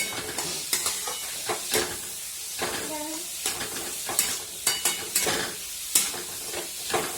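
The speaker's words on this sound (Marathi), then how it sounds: "कांदा तो परतून घेऊ आपण चांगला लाल लाल करून घेऊ याला" Chopped onions sauté in a hot pan of oil for kanda poha, a steady sizzle broken by repeated spatula scrapes and stirring clinks at close range.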